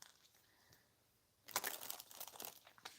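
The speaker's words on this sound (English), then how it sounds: "That's enough shuffling, I believe." Soft tarot card shuffling starts after a quiet pause, a close, papery riffle and crinkle lasting a second or two, fairly faint.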